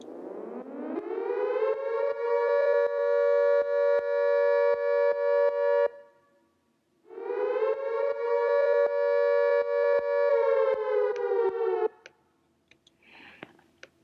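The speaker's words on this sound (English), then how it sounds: "I just found a tornado siren, and alone it sounds like this" A tornado siren wails alone in two long rising-and-sustained blasts, pausing briefly between them, then falling away into faint clicks.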